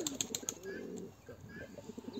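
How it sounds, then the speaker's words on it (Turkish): Pet pigeons or doves up for rehoming, heard with soft cooing and a brief flutter of wings close by in a quiet room, with faint background hiss. "Bakın, sahiplendireceğim kuşlardan bir tanesi bu."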